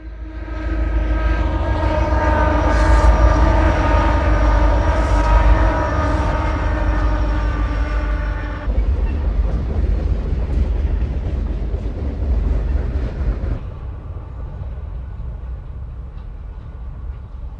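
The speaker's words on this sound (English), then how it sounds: "a westbound Southern Pacific piggyback and manifest freight, crests the grade." A westbound Southern Pacific piggyback and manifest freight train crests the Soldier Summit grade, its diesel horn sounding long layered chords over a heavy engine rumble, then breaking off into a continuous roar of rolling cars.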